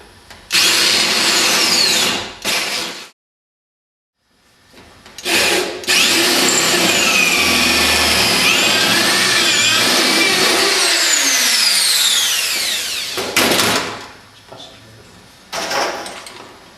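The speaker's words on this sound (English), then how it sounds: "we'll have to drill through those with a 6mm bit" A power drill with a 6mm bit bores holes through a floor panel, loud close whining bursts that rise and fall in pitch, separated by short pauses and a silent gap; no talking.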